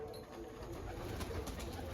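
A pigeon coos softly, low and faint, against a steady background hum, with no clear speech.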